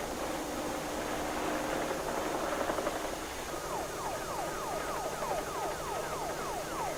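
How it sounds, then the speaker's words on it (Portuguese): An emergency radio beacon from a plane crashed in a storm sends a repeating series of falling sweeps through heavy noise, steady and fairly faint, later in the stretch. "O som de um rádio-farol de emergência significa que um avião se acidentou numa tempestade crescente."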